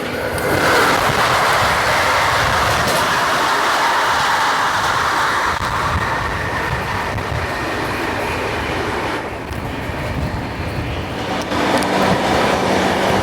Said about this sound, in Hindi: तो अभी हमारे ट्रेन की क्रॉसिंग होने वाली है अहमदाबाद हावड़ा सुपरफास्ट एक्सप्रेस के साथ